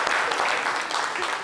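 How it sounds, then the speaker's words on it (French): An audience claps at a lively event as a mother is called up to join, a dense continuous patter of many hands, fairly close and steady throughout. "On applaudit bien fort."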